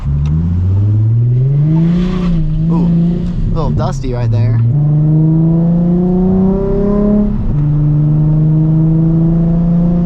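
A Nissan 350Z fitted with a Megan Racing exhaust accelerates, its engine note climbing steadily and loud through a shift, while someone talks over it.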